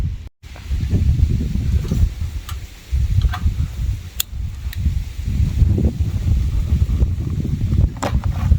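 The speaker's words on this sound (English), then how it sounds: "Very windy." Steady wind at a lakeside campground in Alberta buffets the microphone in low, rumbling gusts, with a few faint clicks and rustles over the top and no one speaking.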